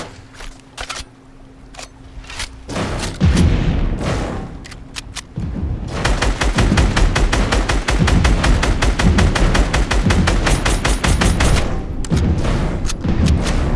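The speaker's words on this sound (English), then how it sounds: "We're getting shot from the other side." Dense rapid gunfire in a Fortnite match, bursts and single shots cracking loudly and continuously, with a brief quieter stretch before the volley picks up again.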